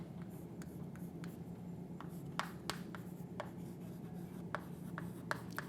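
Pen strokes scratch across paper while notes are written by hand, a quiet, steady rustle broken by sharp little taps and flicks, close and alone.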